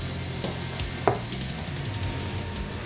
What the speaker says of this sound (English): We're going to let this just saute a little bit, get some color